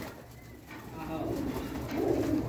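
Soft low pigeon cooing murmurs in rising swells against a steady background hum, fairly close and moderately loud.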